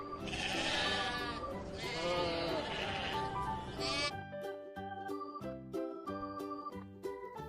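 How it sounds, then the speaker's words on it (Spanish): A farm sheep bleats in a few wavering calls for about four seconds, clear and close, followed by a short bright jingling tune with no animal. "Adivinaste, es la oveja."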